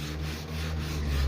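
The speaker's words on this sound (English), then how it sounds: "learning how to control the sandpaper and manipulate it and put proper pressure with your fingers is like a really good way to learn consistency when it comes to sanding" Steady, close hand sanding of a Mazda RX-7 FC tail light lens with coarse-grit sandpaper worked by the fingers, giving a continuous rubbing scrape with slight back-and-forth pulses and no talk.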